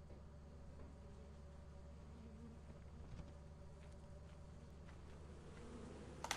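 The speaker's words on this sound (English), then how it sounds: "More bees." A swarm of bees buzzes in the video game Lethal Company. The faint, steady insect drone persists alone across the scene, with a few small knocks near the end.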